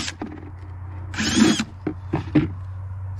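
A power drill with a coarse bit cuts into wood in short bursts, a whining motor between rough grinding bites as the bit chews through, close and fairly loud with brief pauses.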